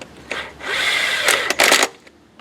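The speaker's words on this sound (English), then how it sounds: "We're going to put the bolts back in." Bolts being driven back into the intake of a 2014 Chevy Silverado 5.3L during a catch can install, with a short whirring tool burst followed by a couple of sharper bursts, close by and with no talk.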